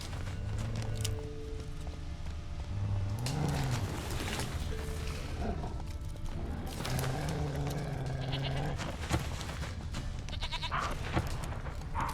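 Goat bleating in The Witcher 3 video game, several drawn-out wavering bleats, loud and close over a steady outdoor game ambience with other animal cries.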